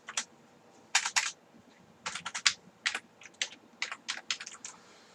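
Computer keyboard typing with an enter press, sharp close key clicks in short bursts separated by brief pauses, crisp and alone against a quiet room hum.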